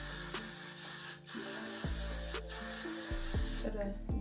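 Hair spray is sprayed on hair being styled into a half-up half-down quick weave, in several short hissing bursts close by, one after another.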